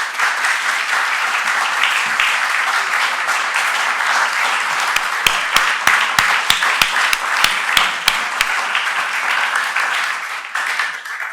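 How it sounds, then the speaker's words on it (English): An audience at the Daniel O'Connell Summer School at Derrynane House, County Kerry, gives loud, sustained applause that stays dense and even throughout, with a few sharper individual claps standing out near the middle. "Your applause says it all."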